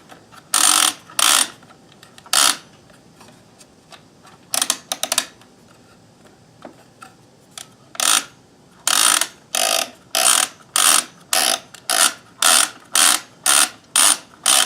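A Kenmore 158.1914 monogrammer sewing machine running with its thread removed gives loud mechanical clattering bursts, sporadic at first, then settling into a fast, regular run of repeated clacks near the end.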